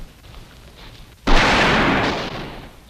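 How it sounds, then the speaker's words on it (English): A sudden loud blast from gunfire in a Western film, followed by a long, noisy, slowly fading boom and rumble after a quiet stretch. "Does the sound of the guns frighten you that much?"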